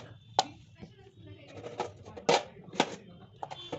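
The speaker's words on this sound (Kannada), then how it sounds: "ಸೊ ಇವಾಗ ಇದನ್ನು 4 ಪೀಸ್ ಮಾಡ್ಕೊತೀನಿ" A knife cuts tomatoes into quarters on a board with several crisp, irregular chopping strikes close by, while a voice talks softly in the background.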